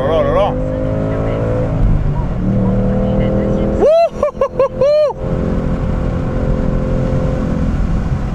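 A 2018 Ford Mustang Bullitt's 460 hp V8 with manual gearbox roars loudly from the cabin while accelerating, with rising engine tones, a sharp burst of gear-change crackles near the middle, and an excited voice talking over it.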